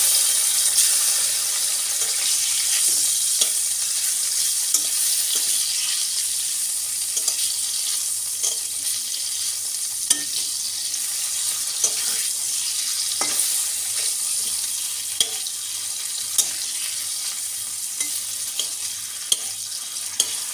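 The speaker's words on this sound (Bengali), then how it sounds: "ওই তেলের মধ্যে মাছটা প্রথমে দিয়ে দেবো" Hilsa fish frying in hot oil in a pan after pointed gourd was fried, giving a steady bright sizzle with scattered small pops and clicks, close and continuous, no talk.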